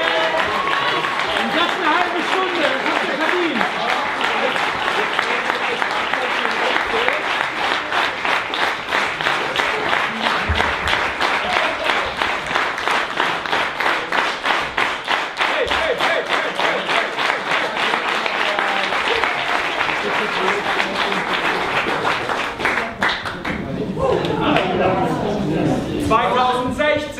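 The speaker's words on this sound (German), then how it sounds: "Ihr könnt gar nicht lauter klatschen wie mir." A large audience claps and applauds steadily and loudly at the closing session of a 2015 photography barcamp in Pforzheim, continuing for most of the stretch before thinning near the end, with voices mixed in.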